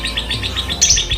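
A male songbird in breeding condition chirps in a rapid repeated series of bright, close tweets with a shifted, altered song pattern, heard alone.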